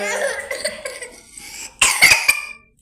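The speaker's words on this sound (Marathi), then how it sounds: "खोकला झाला" A person coughs several times in a burst, close and fairly loud, following a stretch of quieter mixed sound, in a village home during the summer.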